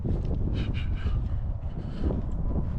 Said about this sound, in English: It's a little cold, a little breezy.